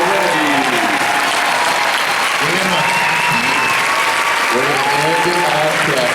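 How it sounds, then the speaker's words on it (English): A convention hall audience claps and cheers for a Firefly cast panel at Comic Con, a dense, steady wash of applause from a large crowd, with voices mixed in throughout. "Round of applause for the cast from Sci-Fi."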